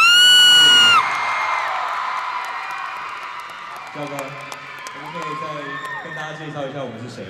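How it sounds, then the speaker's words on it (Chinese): Crowd at a KKBOX music awards show applauding and cheering for a band, with a loud whoop at the start, then sustained cheering and shouts with voices talking over it. "全场的朋友，给他们一个热烈的掌声"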